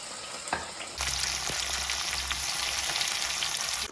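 Tomatoes drop into a hot frying pan, and a quiet background suddenly becomes a loud, steady sizzle that holds for several seconds. A few clinks sound just before it starts.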